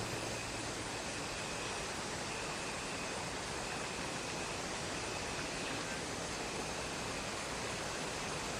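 Muddy, rain-swollen water of the Neyyar river rushes past rocks, a steady broadband roar filling the scene without pause, close and loud with no voices.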